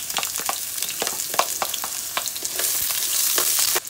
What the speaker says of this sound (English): we're gonna go ahead and put our red onion in the oil